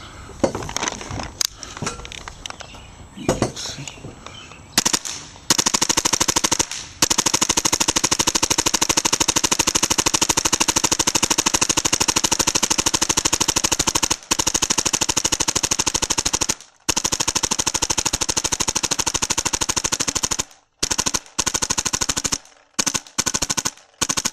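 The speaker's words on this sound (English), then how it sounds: "doing the shooting test, full auto, there's the gun" An X7 Phenom paintball marker fitted with a Deadlywind Fibur barrel fires full auto outdoors, a loud, dense, buzzing stream of shots in long sustained bursts broken by brief pauses, after a few scattered single pops at the start.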